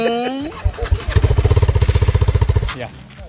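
A TVS Apache RR310 motorcycle with an aftermarket modified exhaust revs up close. A rapid, loud, staccato burble of exhaust pulses runs for about two seconds, then settles back.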